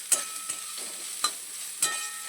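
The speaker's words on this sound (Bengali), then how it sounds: "সমস্ত কিছু খুব ভালোভাবে একটু নেড়ে চেড়ে মিশিয়ে নিলাম।" Spoon stirring and mixing sabu pulao ingredients in a hot pan, a few sharp scraping strokes spaced over a low steady sizzle, close and alone.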